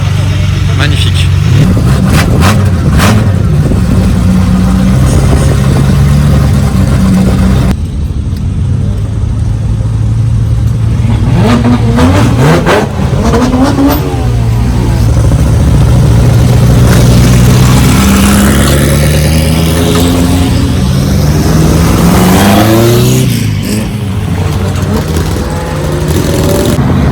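A McLaren 750 LT supercar revs loudly as it pulls away on a Paris street during carspotting, the engine note rising and falling over a long stretch beneath steady crowd chatter and talk.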